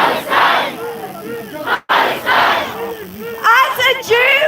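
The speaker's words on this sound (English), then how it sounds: "Can we please give a big round of applause to Nicole, please, from Manchester Jewish Action for Palestine." Crowd at an outdoor Palestine protest cheering and shouting, swelling in loud bursts of voices with whoops and calls, briefly dropping out once before rising again.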